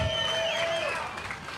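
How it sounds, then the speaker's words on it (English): Applause and crowd noise at a Bassmaster Elite tournament weigh-in on Lake Lanier, a steady wash of clapping with a few whistles over the whole stretch, no speech heard. "Give them a big round of applause."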